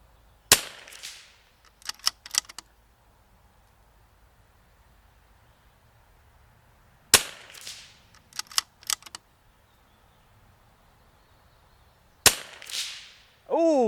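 Three sharp .22LR rifle shots crack out at intervals of several seconds, each followed by faint, distant impact ticks from targets 150 yards away, over a quiet outdoor background.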